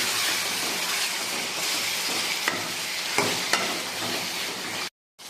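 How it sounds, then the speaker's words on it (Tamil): Tomatoes being stirred into ginger-garlic paste frying in a pan for beef curry: a steady, close, broadband sizzle with a few sharp utensil clicks, then an abrupt brief silence near the end. "அடுத்தது தக்காளி தட்டிக்கலாம். அதையும் கிண்டி விட்டுக்கலாம்."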